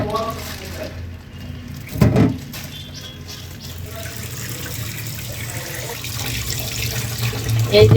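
Tap water runs steadily into a sink to soak a hilsa fish, a continuous close splashing stream with a brief louder gush near the start and again at the end.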